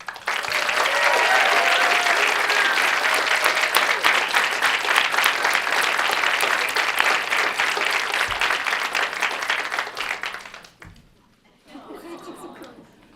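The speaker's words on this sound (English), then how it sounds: "Please give a warm round of applause to Christina, Ali, and Seth Raymond." Sustained applause fills a hall at a medical school awards ceremony, a large audience clapping loudly and evenly for about ten seconds before fading, with faint chuckles and some voices after.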